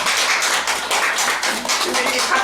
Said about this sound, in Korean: 이 박수 한번 쳐야죠